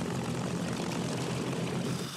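Vintage propeller warplanes, including a B-25 bomber and P-51 Mustangs, pass overhead at a flyover above Arlington National Cemetery, a loud, steady engine roar filling the whole stretch and easing slightly at the end.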